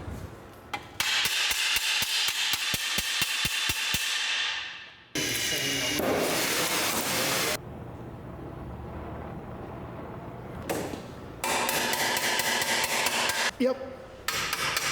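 Metal rivets hammered in a vintage car workshop: rapid rhythmic strikes in bursts, loud and close, with pauses between runs and a brief spoken word.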